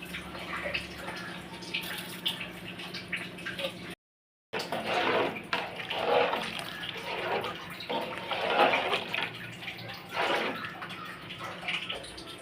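Water is poured over sampa rice in a cooking pot at home, a steady running splash with sloshing that swells and fades in several surges, fairly close, with a brief gap partway through.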